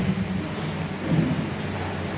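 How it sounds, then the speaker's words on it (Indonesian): Heavy rain pours in a steady, dense hiss with a low rumble of thunder underneath, loud and continuous throughout the short stretch. "Di tengah suara hujan yang deras"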